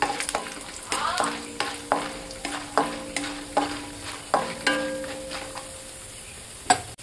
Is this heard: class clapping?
no